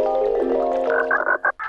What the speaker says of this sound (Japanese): さあ、カエル探すよ。